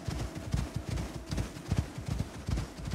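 Horse hooves clip-clop in the survival video game Icarus, a quick, steady run of close, fairly loud thuds without a break over a soft background.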